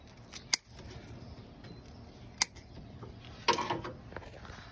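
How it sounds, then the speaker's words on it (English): Plastic zip-tie tails snapped off while fitting a heater hose on a 1981 Ford F-150: three sharp, close clicks spaced over a few seconds, the last followed by brief rustling. "So I'll just snap the ends off."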